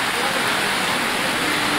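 Steady, dense rain pouring down, a loud even hiss filling the whole stretch with no breaks and no voices.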